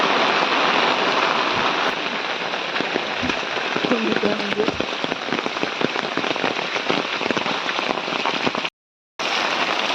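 Steady, dense rain falls loudly and continuously on a hillside near Gaganbawda, the downpour hiding the distant view; a single brief dropout near the end.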